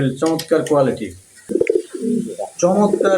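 Pigeons, including fancy breeds, coo at a pigeon farm in a short series of close, rounded calls, while someone talks over them.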